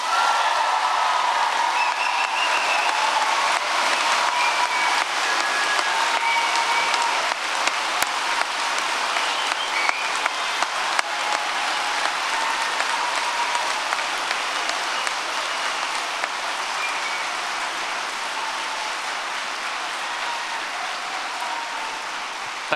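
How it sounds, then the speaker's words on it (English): A graduation audience claps and cheers for over twenty seconds, dense sustained applause with scattered whoops, loud and even, slowly easing toward the end. "So I would like you to give the loudest clap and the rapturous applause and cheer on the count to 3."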